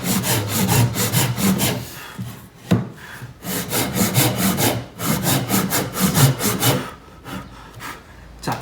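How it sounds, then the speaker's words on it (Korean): A hand saw cuts diagonally through wood during a joinery practice lesson, with steady back-and-forth rasping strokes close to the mic and a brief pause partway through. "지금 초반에 몇 번 넣으실 때는 그냥 자연스럽게 톱질을 한번 해보십시오"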